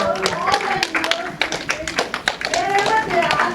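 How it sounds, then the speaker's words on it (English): Audience applause and a standing ovation at the India International Film Festival of Boston, a dense crowd of clapping hands with sharp overlapping claps close by, continuous throughout. "Big round of applause and a standing ovation for our heroes."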